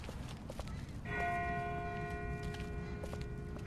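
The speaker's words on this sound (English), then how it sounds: "That's not the same bell as before. This one's further off." A bell rings far off, its single clear tone sustaining and slowly fading over crunching footsteps and low outdoor rumble.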